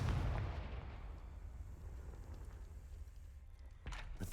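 A Confringo spell explosion in Hogwarts Legacy bursts with a heavy low boom that fades into a rumbling tail, and a second, smaller thump follows near the end. It is fairly faint overall.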